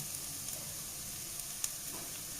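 Chili powder and other spice powders frying and being stirred in oil over moderate heat for a Kerala-style beef curry, a steady soft sizzle with a faint scrape or two, heard alone.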